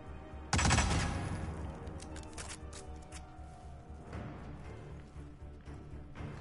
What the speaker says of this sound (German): Schuss wurde gehört